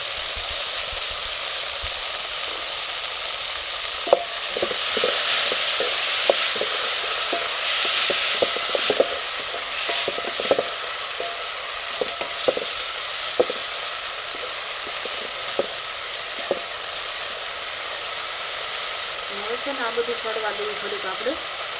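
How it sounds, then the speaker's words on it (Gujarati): Green chillies sizzle and fry in a hot pan for khichdi, a steady close hiss broken by scattered stirring clicks and scrapes throughout. "હવે નાખી દઈએ આપણે આ લીલા મરચાં"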